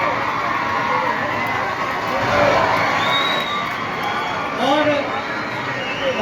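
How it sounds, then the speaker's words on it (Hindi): An audience at a stage event cheers and claps as guests arrive. The crowd noise is loud and constant, with occasional shouts rising above it and a voice speaking briefly. "भरपूर तालियां जी"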